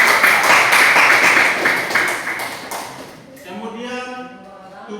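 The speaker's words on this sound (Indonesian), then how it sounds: "kita beri tepuk tangan untuk kelompok 3" A group of students in a classroom claps for a student presentation team. Brisk, close hand claps fill the first three seconds, then fade as a voice begins speaking.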